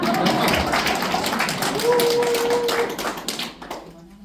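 An audience applauds at a public hearing on building statues, held by a Korean community association in Atlanta. The clapping is steady and dense for about three seconds, then thins out and fades, with a faint tone running through it.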